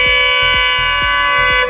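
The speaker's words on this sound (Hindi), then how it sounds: "बस ने हॉर्न दे दिया" A loud, sustained bus horn blares nearby, one long continuous honk with a pulsing rumble beneath it.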